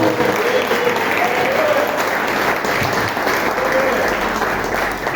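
Church congregation clapping to glorify the name of Jesus, a loud, continuous wash of applause with faint voices rising within it.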